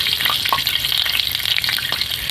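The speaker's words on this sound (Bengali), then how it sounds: "এবার ওই তেলের মধ্যে অল্প একটু কালো জিরে" Nigella seeds sizzle in a little hot oil, a loud continuous crackling fry with quick popping bursts and faint stirring, no voices.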